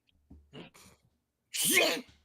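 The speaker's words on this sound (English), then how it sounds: "I got to sneeze now." A single loud human sneeze bursts out sharply after a couple of short breathy intakes, close and alone in a quiet room.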